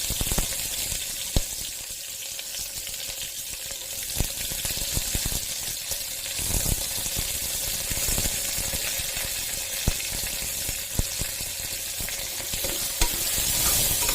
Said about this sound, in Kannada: ಬ್ರೌನ್ ಕಲರ್ ಬರೋವರೆಗೂ ಫ್ರೈ ಮಾಡ್ಕೊಳ್ಳೋಣ